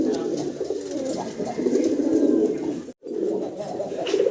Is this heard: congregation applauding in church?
no